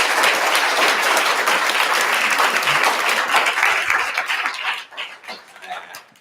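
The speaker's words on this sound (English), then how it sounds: "A big applause for Professor Liefaard." Sustained audience applause after a masterclass talk on child rights, loud and dense at first, then thinning into scattered claps as it fades toward the end.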